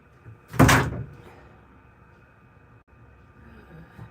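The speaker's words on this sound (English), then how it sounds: "I might even open up the shed door, get some fresh air in here." A shed door swings open with one loud thud and rattle near the start, then its rumble dies down into quiet room noise with faint knocks.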